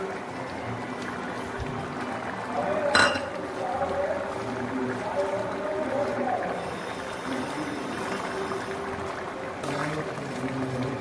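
Crumbled egg drops into a simmering tadka in a pan, giving a soft clink and splash over a steady bubbling sizzle, fairly quiet and continuous.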